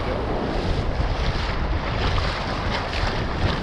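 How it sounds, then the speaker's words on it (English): Wind gusts buffet the microphone on a beach during snapper fishing, a loud rough rumble with surf washing behind it, continuous throughout and no talk. "Don't know what the wind quality is going to be like on this"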